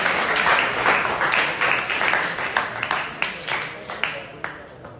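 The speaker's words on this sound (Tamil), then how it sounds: "அவரை கரகோஷத்துடன் வரவேற்கிறோம்." An audience at a Tamil devotional Shiva discourse claps to welcome a speaker, dense applause at first that thins into scattered individual claps and fades toward the end.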